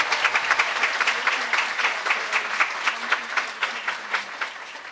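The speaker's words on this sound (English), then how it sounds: "Please give a great round of applause to HWPL Chairman Man-hee Lee." A lecture audience gives a sustained round of applause, many hands clapping together at an even loudness for several seconds.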